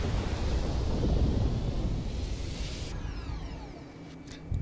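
A Scarab walker in Halo Wars fires its main weapon, a loud, rumbling, sustained blast that thunders for several seconds before fading with a few metallic sweeping tones.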